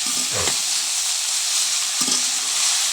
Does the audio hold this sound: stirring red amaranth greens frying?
yes